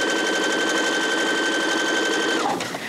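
Baby Lock Jubilant sewing machine running a quarter-inch seam on fabric, a fast, even whir of stitching that carries close and steady for over two seconds before stopping abruptly.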